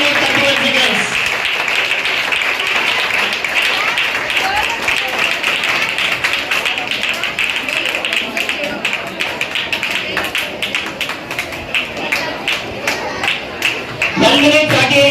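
Audience applause for students at a school National Mathematics Day Rubik's Cube contest, a dense crowd of claps that thins toward the end, with voices talking over it.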